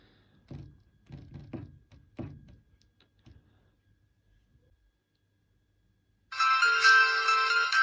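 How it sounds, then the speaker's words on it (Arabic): A smartwatch rings with an incoming call, a loud steady electronic ringtone that starts suddenly after a few soft taps and thumps and keeps sounding to the end. "الرقم رن على الساعة ومتسجل بالاسم"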